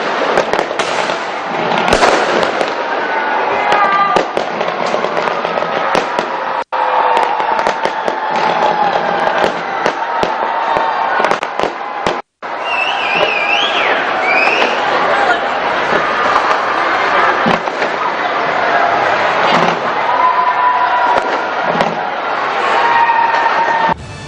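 New Year fireworks burst loudly over a crowd in New Zealand cities, dense crackling explosions and booms rolling on continuously with crowd noise and cheering beneath.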